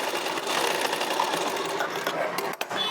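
A domestic sewing machine runs steadily, stitching a fabric border to make a blouse latkan. The motor whirs continuously at close range and pauses briefly near the end.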